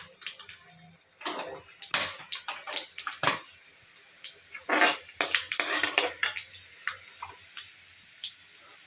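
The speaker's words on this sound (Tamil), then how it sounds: "கடுகும் ஜீரகம் பொறிஞ்சிச்சு" Mustard seeds and cumin splutter in hot oil in a pan, giving a rapid irregular run of sharp pops and crackles that build and then thin out, close and clear.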